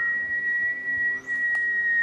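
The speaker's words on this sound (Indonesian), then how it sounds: "Kalian denger gak suara siulan itu?" A single sustained whistle tone rings out steadily and clearly for the full two seconds as a sound effect in a children's story, with a faint extra chirp near the end.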